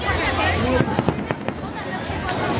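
Disneyland fireworks on a June 2012 evening go off in a run of sharp bangs and crackles, with people chatting nearby over the explosions.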